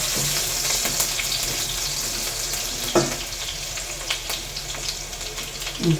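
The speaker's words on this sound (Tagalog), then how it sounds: "Ito po igigisa." Steady sizzling fills a pan as aromatics are sautéed before mushrooms go in, with a few clinks and stirring scrapes over the constant frying hiss.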